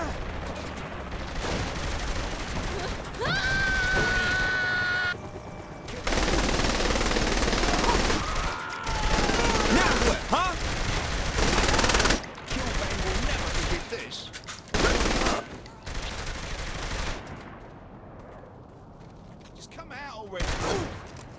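Rapid bursts of automatic gunfire and volleys of shots in the video game Saints Row the Third, loud and sustained, mixed with explosions, game effects and character voices talking.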